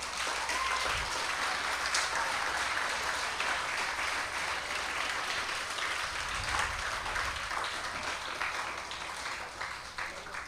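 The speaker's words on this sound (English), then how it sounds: "And so, children, I want you to give a big round of applause." Children applauding at a UNICEF World Children's Day event in Barbados, sustained even clapping from a large group at a moderate distance, continuing steadily throughout with no voices over it.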